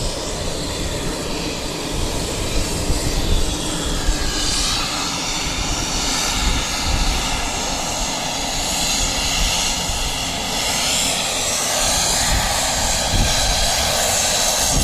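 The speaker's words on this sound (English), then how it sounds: "we've got a Dash 8 landing" A Dash 8 turboprop lands at Wellington Airport, its engine drone loud and sustained with a rising and shifting whine as it passes nearby.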